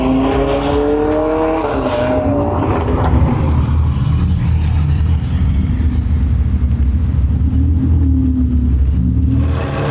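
Ferrari race cars growl near the pit straight, loud and continuous, with rising and falling engine tones as cars accelerate and pass close by, no talking.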